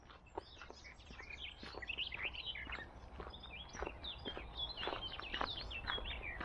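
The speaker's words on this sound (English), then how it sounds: "the birds are singing" Birds singing in the woods on a morning, many chirps and tweets overlapping in a busy, fairly close chorus over a faint low background.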